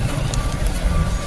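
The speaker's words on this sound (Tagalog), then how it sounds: "Pag may matras na naman." Truck reversing beeps sound through heavy road traffic at Lawang Bato, Valenzuela, with a steady low engine rumble and a thin tone running constantly over it.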